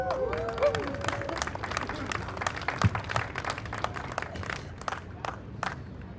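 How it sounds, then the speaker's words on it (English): A crowd at an outdoor eminent domain protest claps and cheers for several seconds, loose scattered clapping with a murmur of voices beneath it, heard from a moderate distance. "Y'all want to give it one more round of applause"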